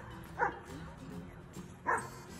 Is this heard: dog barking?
yes